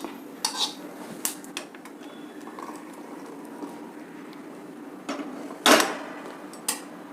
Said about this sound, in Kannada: ಇದನ್ನೆಲ್ಲ ಮಿಕ್ಸಿಗೆ ಟ್ರಾನ್ಸ್ಫರ್ ಮಾಡ್ಕೊಳ್ತೀನಿ ನಾನು